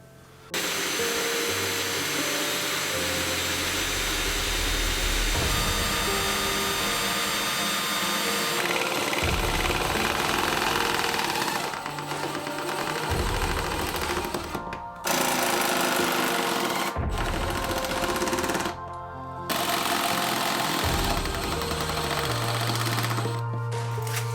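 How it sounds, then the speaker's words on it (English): A power drill whines loudly in several long bursts, pausing briefly between holes, with grinding and rattling as it bites in. "Now I think we have to drill our holes."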